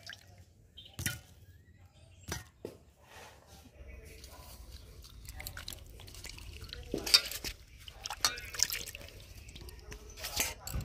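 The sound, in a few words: washing ripe mangoes in water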